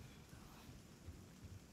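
Steady rain in Resident Evil 4 Remake, a quiet hiss with low rumbling underneath, faint and continuous over a short stretch.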